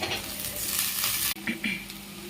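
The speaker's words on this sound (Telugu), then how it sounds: "ఆనియన్ వేగాక అందులో ఈ కట్ చేసుకున్న రా బనానా పీసెస్ వేసుకోవాలి" Raw banana pieces frying with onion in a pan, a steady close sizzle with brief stirring scrapes and a short dip partway through.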